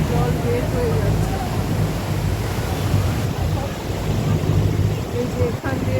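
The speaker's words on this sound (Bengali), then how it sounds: "এই যে এখান দিয়ে জল বেরোচ্ছে, কি আওয়াজ বাবা, জল তো বেরোচ্ছে" Water pours through the open lock gate of Khandoli Dam in a loud, continuous roar, close and unbroken, with faint voices underneath.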